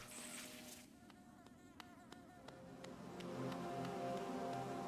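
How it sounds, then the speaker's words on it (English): Bees buzz in Hollow Knight, a faint steady insect drone that thickens toward the end, mixed with light game effects and a soft ticking, with no talk. "Oh, more bees!"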